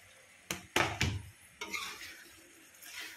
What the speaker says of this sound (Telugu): చూడండి కొంచెం కలియబెట్టండి.